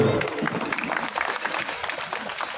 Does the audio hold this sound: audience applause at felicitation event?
yes